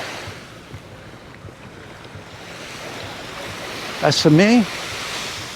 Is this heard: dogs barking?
no